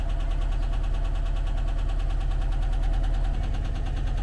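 A VW T25 Vanagon engine runs at idle with a steady, rhythmic low chugging and a faint ticking pulse, close and even throughout.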